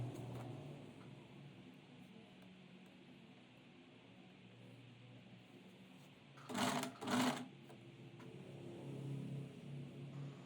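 A sewing machine stitching a kurti runs in two short bursts of fast, whirring stitches. The bursts stand out against a quiet, faintly noisy room, with a low rumble afterward.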